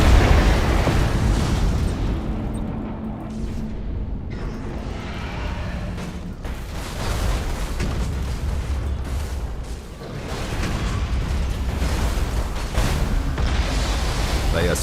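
Torpedo explosions in the Battlefleet Gothic Armada 2 video game, with Tyranids against the Imperium: continuous rumbling booms and bursts, heavy and dense, rolling one into the next.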